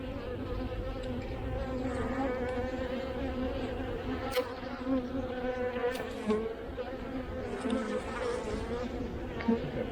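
Agitated honeybees buzz steadily and close during an opened-hive inspection in February, a dense continuous drone with a few louder passes near the microphone.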